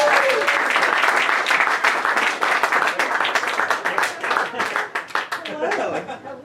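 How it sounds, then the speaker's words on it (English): An audience at a stand-up comedy show applauds and cheers a comedian taking the stage, with dense, loud clapping that fades toward the end while a voice speaks over it. "Please give her a huge round of applause."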